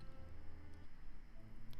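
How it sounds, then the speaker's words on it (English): A room fan and a MacBook computer fan run together, giving a faint, steady whirring hum with a low drone and no breaks. "that's my fan in my room and my MacBook computer fan"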